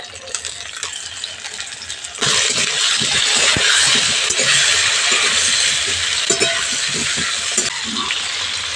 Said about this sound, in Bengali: কেটে রাখা বেগুনগুলো ভেজে নিচ্ছি।